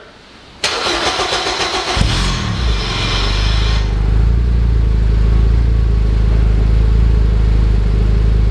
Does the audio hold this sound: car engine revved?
yes